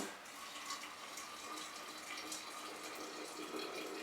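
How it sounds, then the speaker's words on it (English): Boiling water pours steadily into containers for growing koji, a continuous soft splashing stream at low volume with no pauses or talking. "fill these up with boiling water so that it can"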